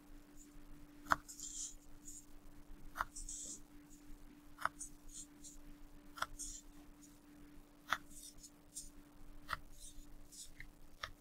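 Pencil strokes drawn down a folded sheet of paper for a 3D salmon craft, a short scratchy stroke roughly every second and a half, with a faint steady hum underneath.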